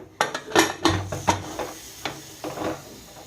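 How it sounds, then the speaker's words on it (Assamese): A metal lid is fitted onto a pressure cooker in a home kitchen, with a handful of short clanks and scrapes spread over a few seconds, quiet and close. "এতিয়া কুকাৰৰ ঢাকন লগাই মই"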